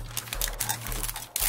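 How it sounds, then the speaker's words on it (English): Paper cutter trimming sheets of toner-transfer paper for DIY synth panels: a run of close, sharp clacking cuts and blade strikes in quick irregular rhythm over a steady low hum, with no talking. "This is my paper cutter. I'm using it to trim these down."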